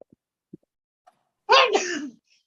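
A single sharp human sneeze lands close and loud after a few faint clicks in an otherwise quiet room during an online meeting.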